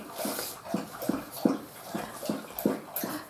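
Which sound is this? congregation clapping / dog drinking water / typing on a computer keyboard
dog drinking water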